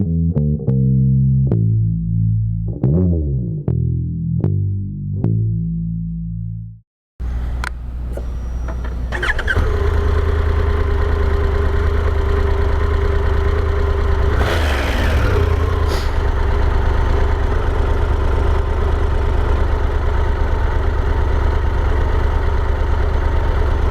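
A 2023 Triumph Tiger 1200 GT motorcycle, first a tonal run of notes, then the engine catching and settling into a loud, steady close-up idle with a brief rev in the middle.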